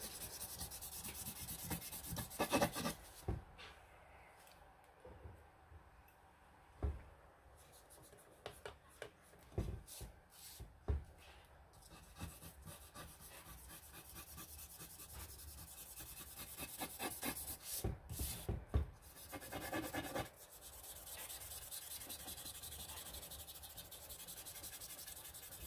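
Blending chalk is rubbed onto a textured envelope for decoupage crafting, making faint, close scratchy rubbing strokes in uneven bursts that grow busier toward the middle of the clip, with no talking.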